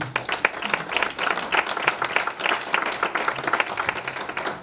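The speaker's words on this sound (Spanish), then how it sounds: "Dele un aplauso al Señor." A church congregation gives steady, enthusiastic applause, many hands clapping densely at close range for several seconds with a few faint voices mixed in.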